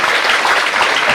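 A crowd applauds at a job appointment letter ceremony, a brief, loud burst of continuous clapping that runs evenly for about a second.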